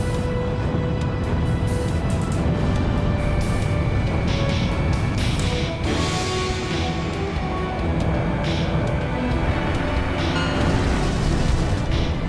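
Missiles strike enemy bombers over a city in the combat flight game Ace Combat, producing loud, dense rumbling explosions and booms layered over continuous jet roar for the whole stretch, with brief bursts of brighter crackle.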